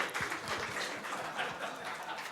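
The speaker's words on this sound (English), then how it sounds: "give everyone a round of applause for yourselves" Audience applause at a technology adoption conclave, a dense steady wash of many hands clapping at moderate distance, with faint voices mixed in underneath throughout.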